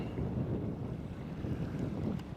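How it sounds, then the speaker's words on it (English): Steady coastal wind buffets the microphone during sea kayaking off Elgol on Skye, a continuous low rumble with faint water movement beneath, close and unbroken throughout. "it's wrapping round that corner now, that wind"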